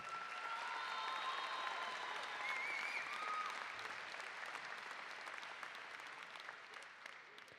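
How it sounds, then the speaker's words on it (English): Steady, faint crowd applause at a high school graduation ceremony, honoring a named person, continuous clapping that gradually tapers off, with a few whistles early on. "How about a round of applause for Lance Hill?"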